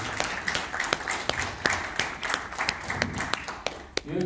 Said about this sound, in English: So I just request all of you to give a huge round of applause.